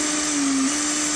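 A very dull drill bit being sharpened, giving a steady, loud whirring grind with a constant hum that holds unbroken throughout, no voices over it.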